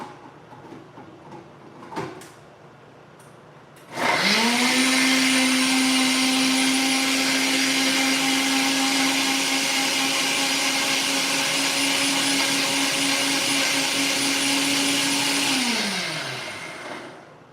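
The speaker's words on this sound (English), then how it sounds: "when I start blending it, you would hear the blender go" A kitchen blender whirs up after a quiet start, blending with water in a steady, loud, close drone for about twelve seconds before winding down at the end.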